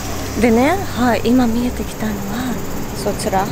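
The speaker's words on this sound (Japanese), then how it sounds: "セミが鳴いてるんだ。北海道もセミいるんだね。" Cicadas drone steadily outdoors near the Goryokaku tower in Hakodate, Hokkaido, on a summer day, a faint high hum running beneath a man's close, continuous talking.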